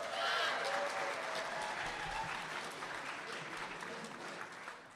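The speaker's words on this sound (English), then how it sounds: "let's give major rounds of applause" A crowd at a short film festival claps steadily in a broad wash of applause that starts strong and slowly tapers off over a few seconds.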